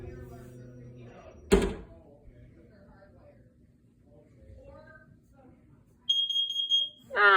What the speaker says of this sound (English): I think it's because I shut off the electricity upstairs and the fire alarms are freaking out.